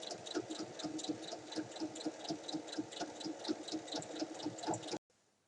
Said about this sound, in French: une piqûre à 5 mm tout autour